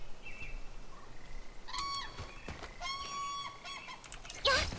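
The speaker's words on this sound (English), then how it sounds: "Shut up, bird!" Bird calls in the video game Arknights: Endfield, a few faint chirping and trilling bursts over a quiet ambient bed with no talking.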